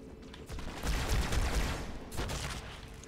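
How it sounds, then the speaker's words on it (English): Mounted gun fire in Halo 2 Anniversary, a dense continuous roar of rapid shots and explosions in heavy combat, swelling and easing over the few seconds without speech. "Oh, they mounted the gun."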